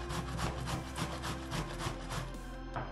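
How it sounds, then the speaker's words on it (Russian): Zucchini rubbed on a coarse grater makes a rapid, rhythmic rasping of close scraping strokes, repeated steadily and loud with no talk. "натираем кабачки."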